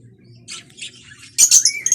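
Pet birds in a home aviary, close, short squawks and chirps in a few scattered bursts, the last bursts louder and more rapid, with no talk.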